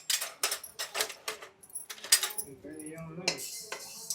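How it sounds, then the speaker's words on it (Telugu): Small hard fenugreek seeds dropped into a dry, oil-free pan with mustard seeds, giving a run of sharp, rapid rattles and clinks close by, followed by a brief scrape and softer sizzling hiss. "ఇదిగో మెంతులు కూడా వేసేస్తున్నాను"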